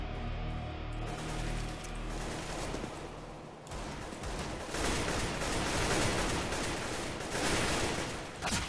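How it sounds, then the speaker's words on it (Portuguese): Sustained gunfire volley in the video game CS:GO, dense and loud throughout with bursts of shots layered over game noise, with no talk. "eu tomei uma saraivada de tiro"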